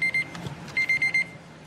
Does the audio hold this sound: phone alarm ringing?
yes